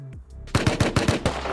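Rapid gunfire in the video game Rust: a short burst of about seven sharp, evenly spaced shots, loud and close, preceded by a brief faint sound.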